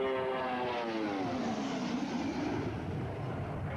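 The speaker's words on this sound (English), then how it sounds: "the thing to watch as the aircraft goes past, after it goes past it pitches up" An RNZAF Boeing 757 jet makes a fast low pass at an airshow, a loud sustained roar with a falling sweep in pitch as it rushes by, with no talking.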